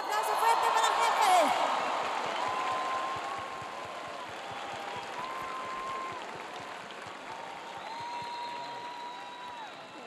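Applause from a large festival audience at Viña del Mar 2015, a dense steady clatter that peaks early then settles to a sustained wash, with sustained musical tones sounding over it.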